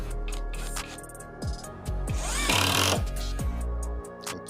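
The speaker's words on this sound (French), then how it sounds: "on va essayer avec les mêmes vis, mais dans ce bois-là, avec la visseuse à choc" An impact driver drives screws into dense exotic ipe wood, a motor whirring up and down in several bursts with a loud rattling hammering stretch in the middle, close and without talk.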